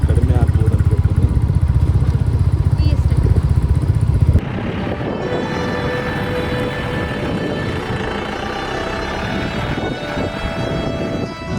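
A motorcycle rides along a tourist road in Munnar, Kerala. The engine drones continuously with road and wind noise; it is louder and rougher for the first few seconds, then settles into an even hum.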